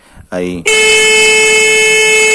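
Car horn wired without an interrupter relay, blaring in one loud, continuous, unbroken tone right up close after a short voiced sound at the start.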